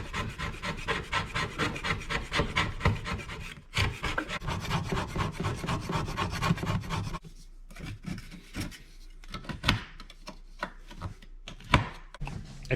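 Hand scraping of excess epoxy off the edge of a granite-look kitchen countertop: repeated close rasping strokes in a steady rhythm, then sparser, sharper individual scrapes after a short pause.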